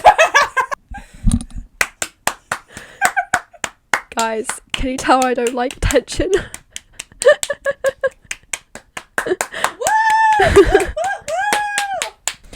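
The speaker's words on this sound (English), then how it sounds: "we should just clap for the whole episode" A few people clapping in scattered, uneven bursts between stretches of close conversation and laughter, with sharp hand claps and snaps cutting through the talk.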